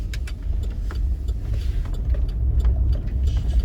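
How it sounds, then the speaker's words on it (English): A car rumbles along at a steady pace with continuous low road and engine noise, close by, and faint clicks and knocks scattered through it. "Why is this car following me?"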